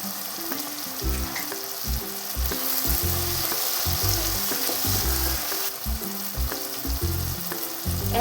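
Garlic cloves, cumin seeds and red chili fry loudly in a pan, a dense continuous sizzle with rapid crackling pops throughout and no talk.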